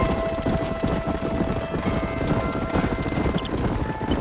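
Horse hooves clip-clopping steadily in Red Dead Redemption, a continuous rapid rhythm of several horses riding together over a constant outdoor game ambience and a faint sustained tone.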